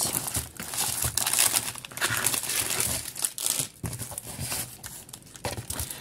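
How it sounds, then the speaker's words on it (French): Plastic pouch crinkling loudly and continuously as a package is unwrapped close by, with bursts of rustling and crackling and a few short pauses. "je vais l'ouvrir parce que c'est la pochette qui fait du bruit"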